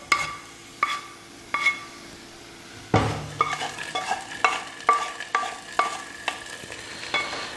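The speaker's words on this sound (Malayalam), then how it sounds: "നമുക്ക് ഈ നാളികേരം കൂടി പായസത്തേക്ക് ചേർക്കാം." A spoon stirs browned coconut into jackfruit seed payasam in a pot, making a rhythmic series of close scraping knocks against the metal over a low bubbling sizzle. There is no talk.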